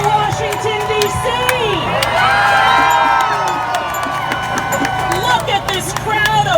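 Large crowd at an outdoor anti-Trump rally outside the White House in Washington, D.C., cheering, whooping and shouting continuously and loudly, with many overlapping voices.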